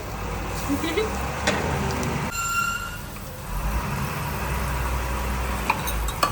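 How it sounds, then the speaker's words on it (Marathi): A tractor engine drones past outdoors, a low rumbling growl that swells and lingers beneath people talking close by. "हे ट्रॅक्टरला काही मध्येच यायचं होतं काय?"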